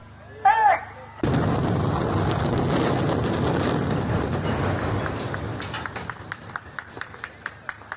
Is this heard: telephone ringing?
no